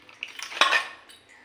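Plates and small metal bowls are set down one after another at home, a few light clinks and clatters close by, with no talk.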